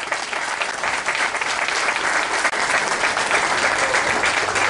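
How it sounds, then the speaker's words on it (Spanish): Steady audience applause at a municipal economic development fair, a full continuous wash of clapping that stays even throughout. "Un aplauso para todos ustedes que hacen posible que hoy estemos aquí."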